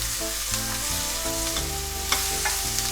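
Chopped yellow pumpkin sizzles steadily in a frying pan with oil and softened onion, a close, even crackle with occasional stirring scrapes and no talking.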